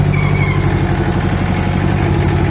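An Iseki diesel garden tractor engine runs as the tractor drives forward. It makes a loud, close, steady throbbing drone with no voices.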